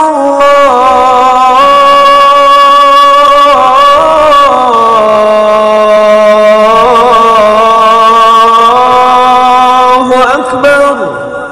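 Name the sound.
Islamic call to prayer (adhan)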